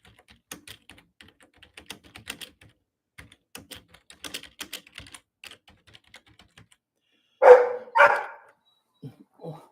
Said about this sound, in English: What is it you're barking at?